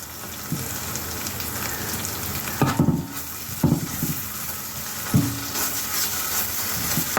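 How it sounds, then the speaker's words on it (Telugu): Homemade ginger garlic paste frying in oil with chopped green chillies, a steady close sizzle with a few louder spatters and utensil knocks through the middle. "ఇప్పుడు అల్లం వెల్లుల్లి పేస్ట్ వేస్తున్నాను."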